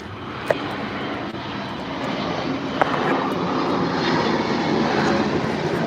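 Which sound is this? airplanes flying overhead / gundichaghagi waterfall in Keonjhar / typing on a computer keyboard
airplanes flying overhead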